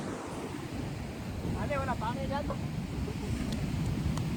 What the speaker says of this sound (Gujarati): આટલા ઊંચા વેવ્સ આવે છે